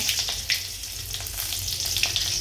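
Asafoetida, chillies and curry leaves sizzle steadily in hot oil, a close, dense crackling hiss with brief louder spits, heard alone.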